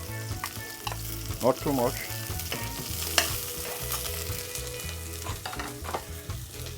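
Garlic and fresh seasoning sizzle and fry in a pot over steady heat, with stirring and scraping noises, while someone speaks briefly over the cooking.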